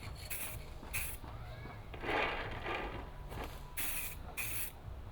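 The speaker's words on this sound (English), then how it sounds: "hitting them with some brown spray paint" Short bursts of brown spray paint hissing from an aerosol can in quick pulses, some brief and some longer, faint and close.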